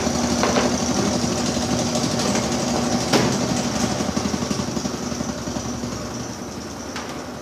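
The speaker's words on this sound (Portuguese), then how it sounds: "Vamos colocar essa tampa aqui e deixar ela centrifugar mais." Consul top-loading washing machine spinning with its lid closed, a steady loud mechanical whir and hum with a faint rattle, continuous and close, slowly easing in level over several seconds.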